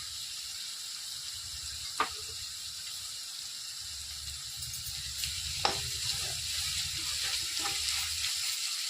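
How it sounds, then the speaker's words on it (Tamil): Ginger garlic paste and salt sizzle in a hot pan for a Tamil-style chicken curry, a steady close frying hiss with a couple of sharp stir clicks, no talk. "நல்லா வதங்கட்டும்."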